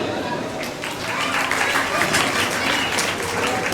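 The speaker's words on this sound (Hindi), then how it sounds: "इनकी हौसला अफजाई के लिए तालियां बजाएं।" Dense applause from an audience at a school award ceremony on result day, loud and steady throughout with crowd noise mixed in.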